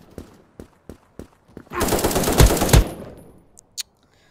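Missile rifle fire in the first-person shooter game Krunker: a few sharp single shots, then a dense, loud sustained burst lasting about a second, followed by a couple of faint isolated pops.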